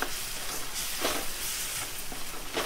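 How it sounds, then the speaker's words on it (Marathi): Ginger garlic paste sautés in oil for chole masala, a dense steady close sizzle with occasional spoon scrapes and stirring taps, no talking. "हे आहे आलं लसणाची पेस्ट. हे जरा असं व्यवस्थित परतून घेतल्यानंतर"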